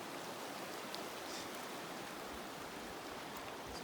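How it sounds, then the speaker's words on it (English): A wide, impassable river in the backcountry rushes loudly and steadily, a dense, continuous roar of fast water filling the whole clip with no pauses. "Very impressive river, man."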